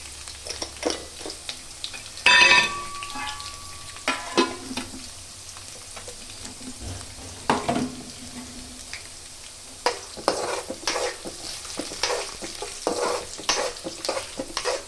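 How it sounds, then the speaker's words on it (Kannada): Curry leaves, mustard seeds and cumin sizzle in hot oil while being stirred, with intermittent crackles and spoon scrapes at close range, loud bursts coming and going throughout. "ಕರಿಬೇವು ಹಾಕೋಣ ಮತ್ತು ಜೀ ಸಾಸಿವೆ ಮತ್ತು ಜೀರಿಗೆ"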